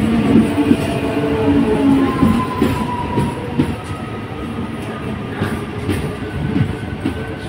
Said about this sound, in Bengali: তো ট্রেন এসে গেছে